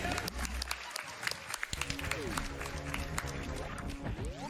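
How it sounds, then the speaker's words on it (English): A small audience at a live speedrun marathon event gives brief, thin scattered applause, a few hands clapping under a mixed crowd and game sounds. "Just a little pity clap"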